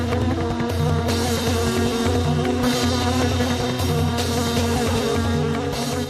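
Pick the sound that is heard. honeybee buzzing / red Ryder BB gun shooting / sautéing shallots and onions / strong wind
honeybee buzzing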